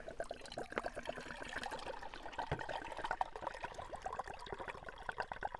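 Hot water being poured, likely into a canteen or pot while preparing a Latvian military ration, a faint continuous splashing trickle with small gurgles throughout.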